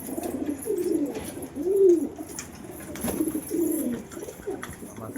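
Pigeons coo in a pigeon house, several soft rolling calls rising and falling in a slow, uneven rhythm, close by and alone with no talk.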